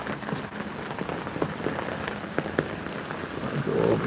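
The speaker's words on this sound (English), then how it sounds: "we're out here to listen to this rain" Steady rain falling outdoors during a North Carolina rainstorm, a dense close hiss of drops hitting surfaces with a few sharper splats, alone with no talking.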